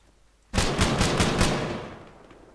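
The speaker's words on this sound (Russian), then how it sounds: "Свои что ли стреляют, я не понимаю." Sustained automatic gunfire from friendly soldiers in ArmA 3 erupts after a brief quiet, loud and close, a dense burst of rapid shots that fades out over about two seconds.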